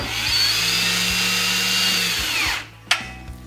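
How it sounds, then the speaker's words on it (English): A power drill drives screws into a pocket door track, its motor whirring steadily and loud up close for about two and a half seconds, then spinning down and stopping, followed by a sharp clack. "I'm only going to put in a couple of screws"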